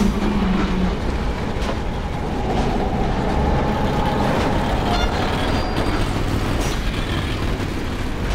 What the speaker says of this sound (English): Pretty strong car if it can push this train car.